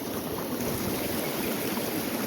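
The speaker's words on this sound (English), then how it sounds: "Right up in next to the waterfall." A stream rushing beside a waterfall at a trout fly-fishing spot, a steady broadband wash of moving water that stays even and close throughout, with no voices.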